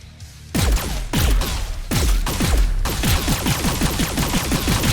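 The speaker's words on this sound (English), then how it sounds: "the chain gun has been ruined" Rapid automatic fire from the chain gun in Doom Eternal, a loud, dense stream of heavy thudding shots after a brief quiet start, continuing steadily with no pause and no voices.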